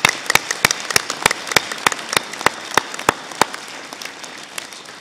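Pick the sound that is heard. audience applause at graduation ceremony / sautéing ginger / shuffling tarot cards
audience applause at graduation ceremony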